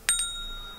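A notification bell sound effect rings as two quick bright dings in close succession, the second slightly softer, then a short fading ring-out.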